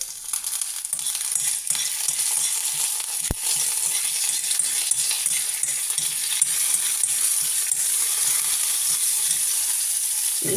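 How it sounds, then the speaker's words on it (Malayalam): Mustard seeds, fenugreek and chillies splutter in hot oil as curry leaves fry for a hotel-style tiffin sambar, giving a steady, close sizzle with scattered sharp pops and one loud click, with no talking. "കടുക് പൊട്ടി തുടങ്ങുമ്പോൾ കറിവേപ്പില,"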